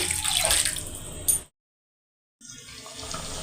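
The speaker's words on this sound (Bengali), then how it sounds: "চিকেনটাকে সমস্ত কিছুর সঙ্গে মিশিয়ে নেওয়ার পর এর মধ্যে দিয়ে দিলাম 1 কাপ মতো উষ্ণ গরম জল" About a cup of warm water pours into spiced chicken for a yogurt chicken curry, giving a splashy, gurgling stream that cuts off abruptly. Near-silence follows, then a softer watery sound returns.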